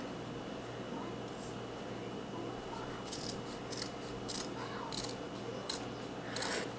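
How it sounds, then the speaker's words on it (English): Scissors snipping through the bottom hem of a cotton T-shirt, a series of short crisp cuts that grow more frequent toward the end, heard quietly over a low steady background hum. "I'm going to cut the bottom hem off first"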